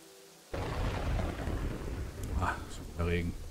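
Heavy rain suddenly starts falling over a medieval town in Kingdoms and Castles, a loud dense wash of noise with low rumble, while someone speaks briefly near the end.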